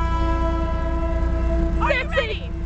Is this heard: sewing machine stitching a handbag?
no